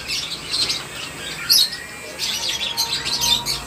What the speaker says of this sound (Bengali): দেখেন পাখি বিগ সাইজ পাখি, আলেকজান্ডার চন্দনা বলে এটা